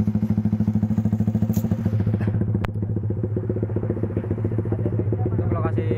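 A Yamaha Jupiter MX King 150 motorcycle fitted with an f2racing exhaust idles close by with a deep, bassy, steady throb, the pulses running continuously throughout with a brief sharper pop partway through.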